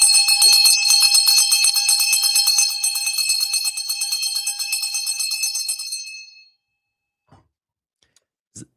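A bell rung at the 4 p.m. stock market close rings continuously in a rapid, bright metallic trill for about six seconds, then stops abruptly, leaving near silence with a few faint clicks.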